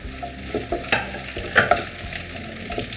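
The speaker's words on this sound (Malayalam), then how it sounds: "ഇനി ഞാൻ ഇതിലോട്ട് സവോള ചേർത്ത് കൊടുക്കുകയാണ്." Sliced onion stir-fried over a high flame for gobi manchurian sizzles loudly, with repeated scraping stirs and clatter against the pan in an irregular rhythm, alone without speech.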